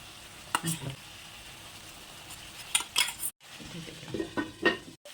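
Potato and pointed gourd pieces are sautéed in a pan with spices for a thin rohu fish curry, making a soft sizzle with intermittent spoon clinks and scrapes against the pan, fairly close.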